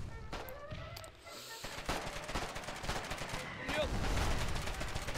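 Artillery shelling in the war game Foxhole, a dense barrage of sharp blasts and rapid gunfire crackling in quick succession, heavy and continuous, with a few distant thuds mixed in.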